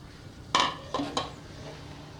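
Boiled masoor lentils tipped into a pot of cooked kheema and stirred, giving three sharp metallic clinks of spoon against pot in quick succession over a quiet kitchen background.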